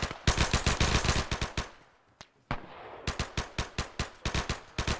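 Bursts of automatic gunfire in Arma 3, loud close shots in quick rhythmic volleys, broken by a brief pause before firing resumes in evenly spaced rounds.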